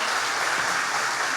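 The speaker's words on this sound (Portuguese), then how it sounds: "Aplauda Cristo de novo." A church congregation applauds during a Pentecostal worship service in Criciúma, a steady, dense wash of clapping that holds evenly throughout with no voices on top.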